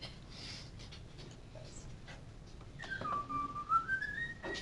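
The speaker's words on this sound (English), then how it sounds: "That's beautiful whistling" A person whistles a short melody with a gliding, wavering pitch, quiet and fairly close, starting after a few seconds of soft room noise during a math lesson.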